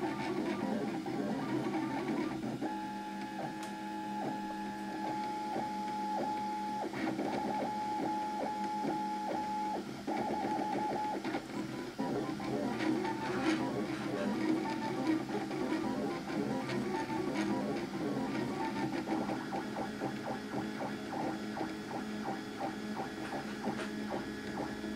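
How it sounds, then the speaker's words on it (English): 3D printer printing PolyMaker PolyFlex flexible filament through a Bowden extruder, with stepper motors whirring in shifting tonal patterns, beeping-like tones and quick clicks over a steady low hum, continuous and fairly quiet at close range. "So here's the first attempt with printing with the PolyMaker PolyFlex."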